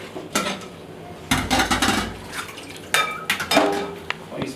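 Metal utensils clatter and scrape against a metal strainer as sauce is sieved, in several sharp bursts of clinks and knocks with wet sloshing between them.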